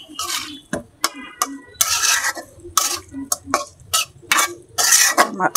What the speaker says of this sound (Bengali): লাড়া দিয়ে দিলাম।